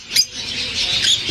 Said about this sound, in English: Oh my gosh, they have more birds. You can just hear them.